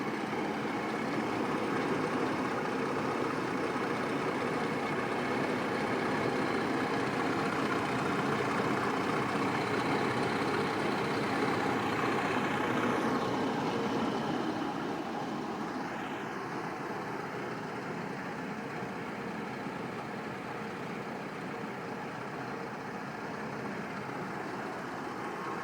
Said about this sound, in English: I'm pretty sure it's a 307, which is an Oldsmobile motor.